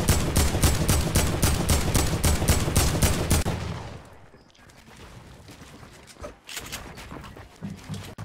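Rapid gunfire in the video game Fortnite, a dense burst of shots for about three seconds, loud and close, then quieter scattered shots with faint talk after.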